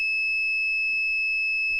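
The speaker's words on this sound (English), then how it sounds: "You hear the beep there, it's at 30 ohms." A multimeter's continuity tester on a broken game controller, a steady, piercing high-pitched tone that holds unbroken for nearly two seconds, close and alone with faint handling noise beneath.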